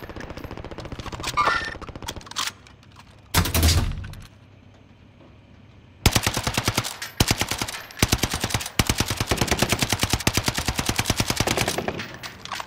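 Call of Duty: Modern Warfare gunfire builds from a few scattered shots and a heavy thump into long, rapid automatic bursts, loud and close, with brief pauses between volleys and no talking.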